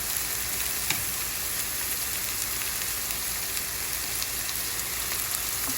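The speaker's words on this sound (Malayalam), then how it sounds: "നമുക്കിനി ഇതിലേക്ക് ചെറുതായിട്ട് കട്ട് ചെയ്ത് വെച്ചിരിക്കുന്ന ക്യാരറ്റ് ചേർത്ത് വെക്കാം" Chopped carrots cooking in a pan with green peas egg masala, giving a steady close sizzle and fizz with a faint stir or tap near the start and no talking.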